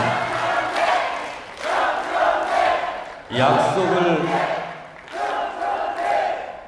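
A lecture audience at a political talk in Gwangju lets out repeated waves of loud shouting and cheering, four or five surging bursts with brief lulls between them, one especially strong roar in the middle.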